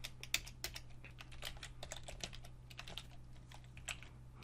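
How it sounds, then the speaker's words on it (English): Rapid, uneven clicking of keys on a computer keyboard as someone types continuously, close and fairly quiet over a faint steady hum, with no talking. "Alright, so I'm just going to have to type it out."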